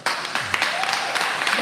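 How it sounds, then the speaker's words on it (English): A short round of applause, with hands clapping close and fairly loud in a burst of quick, uneven claps that keeps going for a moment. "You really just want that round of applause."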